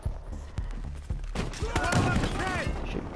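Gunfire in Battlefield Hardline during a heist match crackles as a few sharp early shots followed by denser bursts of shooting, with a voice talking over the later part.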